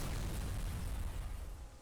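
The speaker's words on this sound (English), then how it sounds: "Just an instant explosion." A car blowing up in the racing game Burnout 3, a dense, roaring low boom that starts at full force and slowly thins out over about two seconds, with no voices.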